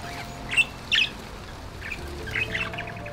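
A budgie squawks in a birdhouse, a few sharp, harsh calls and chirps in short bursts with pauses between, fairly close over a quiet background hum.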